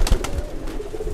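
Racing pigeon cooing at close range, a short soft throaty coo with a couple of faint knocks, heard alone.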